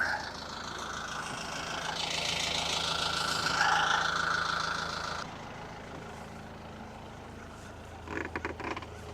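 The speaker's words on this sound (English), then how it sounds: "I'm going to shut the engine off" A boat's inboard engine idles in neutral with the fresh water supply shut off, a steady low hum and rumble that drops in level partway through, followed by a few brief knocks near the end.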